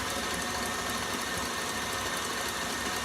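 A stand mixer running fast whips Swiss meringue buttercream, giving a steady, loud motor whir that holds unchanged for the whole few seconds, with no talking.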